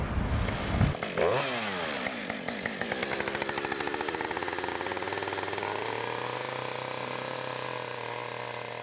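A chainsaw carves a wooden phoenix sculpture. The engine revs up, then settles into a loud, steady, close whine as the blade cuts, and no one talks.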